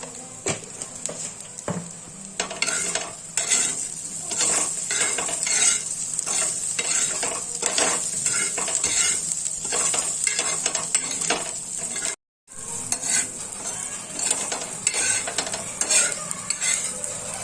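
Green chillies and peanuts roast in a pan over low heat, with busy, rhythmic scraping and clinking of a utensil stirring over a constant sizzle, broken by one brief silent gap.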